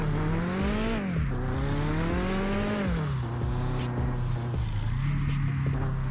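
A race car in the Mon Bazou driving game, its engine droning and shifting pitch as it revs and eases off, with tire squeal layered over it, loud and continuous with no talk.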